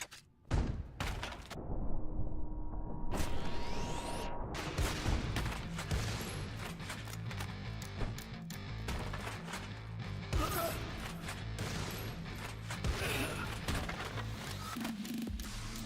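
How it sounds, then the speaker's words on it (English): Shotgun blasts in the game El Paso, Elsewhere boom repeatedly across about sixteen seconds, loud close bangs with crashing impacts and thuds layered among them after a brief quiet opening. "The shotgun reverberates in my chest, shakes me."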